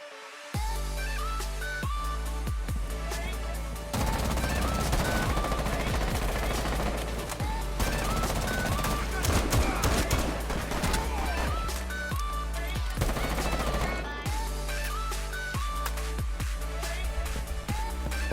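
Rapid bursts of automatic gunfire from the Twitch and Buck weapons in Rainbow Six Siege, loud and sustained with sharp repeated shots, brief pauses between sprays, and a steady low background hum throughout.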